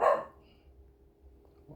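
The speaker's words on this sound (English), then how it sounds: "I'm going to tell my dog to be quiet." A single dog bark rings out loud and close at the very start, then falls away into quiet room tone with only faint low rumble.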